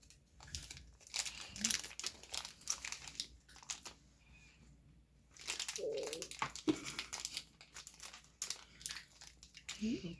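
Plastic cat packaging crinkles and rustles in bursts of handling, close and moderately quiet, with a person talking in between.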